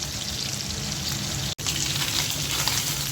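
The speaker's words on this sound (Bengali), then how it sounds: "মাছও ভাজা হচ্ছে।" Tengra fish fry in a pan with a steady, dense sizzle throughout, broken only by a split-second dropout midway.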